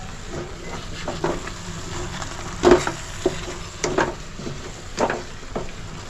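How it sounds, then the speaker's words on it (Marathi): Masala for sukka mutton fries in a pan, with a steady close sizzle broken by occasional louder scrapes and stirring clatters every second or so. "आता हा मसाला आहे ना सगळा चांगला शिजवून घेते"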